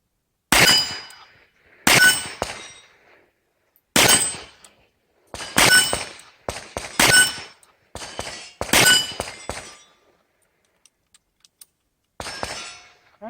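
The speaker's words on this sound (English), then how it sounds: "we'll try the double action now. Shooting the left plate." Colt Python revolver fired double action at a steel plate outdoors: a series of sharp, loud reports, each followed by a ringing metallic clang, spaced about a second or two apart with brief pauses between groups.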